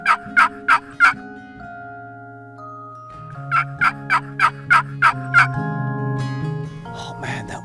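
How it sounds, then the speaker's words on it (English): Wild turkey gobblers in Tennessee gobbling close overhead, two bursts of rapid, loud rattling gobbles, the first a run of about four and the second about six, separated by a quiet stretch, with a further call near the end. "One gobbler gobbled right over my head."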